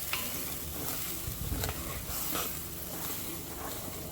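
Red wine poured into a hot beef stew pot, sizzling and bubbling steadily as the bottom is scraped and stirred, close and fairly loud throughout with no talking.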